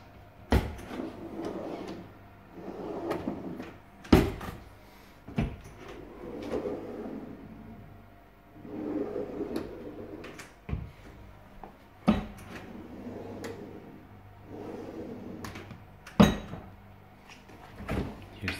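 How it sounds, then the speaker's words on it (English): Push-to-open kitchen cabinet doors in an apartment click and thump open and shut several times, sharp knocks spaced apart with softer rustling handling between them, close and indoors. "You have to push to open the doors"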